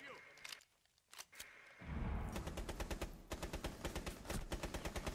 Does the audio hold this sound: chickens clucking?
no